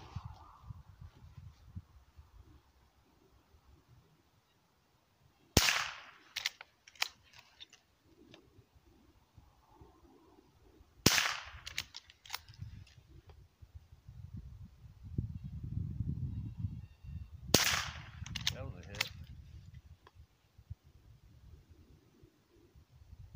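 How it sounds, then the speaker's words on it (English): A lever-action Mossberg .22 LR rifle fires three subsonic rounds outdoors, each a sharp, fairly quiet crack spaced several seconds apart, with low rustling and handling noise in between. "you got a little lever action Mossberg 22 LR"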